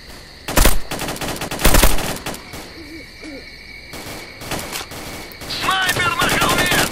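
Gunfire aimed at a sniper in S.T.A.L.K.E.R.: Clear Sky, two loud close shots a second apart, then scattered lighter bursts under a steady ambient hum, with a voice talking near the end.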